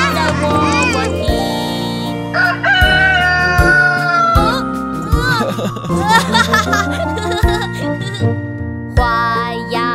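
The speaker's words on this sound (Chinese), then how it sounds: "小河边有一只小公鸡，它在喔喔啼" A cartoon rooster crows in a Chinese children's song, repeated crowing calls set against bright music and sung voices, loud and upfront with playful giggles mixed in.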